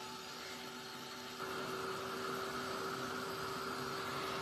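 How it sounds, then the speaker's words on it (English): An embossing heat gun switches up to a higher setting partway through, its steady fan-driven whoosh and hum running on at a low, even level with no voices. "grab my heat tool here"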